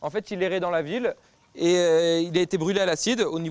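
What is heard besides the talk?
No everyday noise stands out behind the speech.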